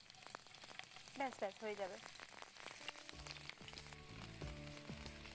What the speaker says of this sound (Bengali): এবার পেঁয়াজটা ভাজা ভাজা হবে।